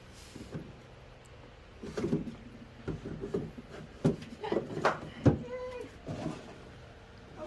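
Small drawers of a makeup vanity desk slid open and shut, a series of close wooden rubs, scrapes and knocks in irregular bursts, with a person talking softly in between.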